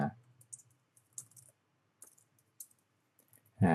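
Keystrokes on a computer keyboard while C code is written, sparse short clusters of clicks in a near-silent room, with a brief bit of speech at the very start and end.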